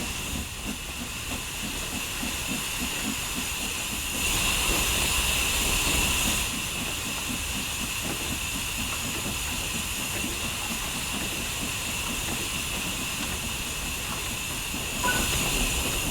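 Steam locomotive in Train Sim World 3 pulling away from a stand, a steady loud hiss of steam over rhythmic low chuffing and rumble, with a brighter burst of venting steam midway and another near the end; no talking.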